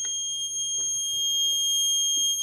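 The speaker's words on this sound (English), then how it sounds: "Engine off. Alarm on." An MQ-3 alcohol detector alarm sounds a continuous high electronic tone, steady and close, over faint low background noise.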